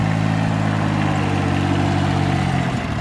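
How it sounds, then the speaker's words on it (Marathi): A farm tractor pulling an eleven-tine seed drill that sows summer coriander seed along with fertilizer gives a loud, steady, close engine drone, even and uninterrupted throughout. "आमचे मित्र सुनील कोबर्णे यांचं ट्रॅक्टर या ठिकाणी गोपाळे फार्ममध्ये कोथिंबीर पेरत आहे."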